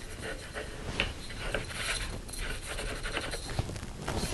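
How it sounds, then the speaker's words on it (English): A threaded part on an Umarex Zelos air pistol is twisted onto the barrel end, giving a close, steady scraping and ratcheting clicks with small mechanical ticks throughout. "So this just screws on the end too."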